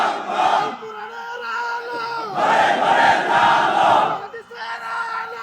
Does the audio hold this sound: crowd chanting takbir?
yes